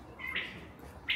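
Bird chirping outdoors in Bukhara, Uzbekistan: two short bright calls, one early and one at the end, standing out over a soft background murmur, moderately near.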